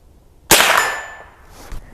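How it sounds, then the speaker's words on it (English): A Henry Frontier long barrel rifle fires one Aguila round at a target 50 yards away. A single sharp, loud crack is followed by a ringing metallic clang that fades, then a faint second impact thud. "we're just going to fire a couple of rounds of this. This is the Aguila."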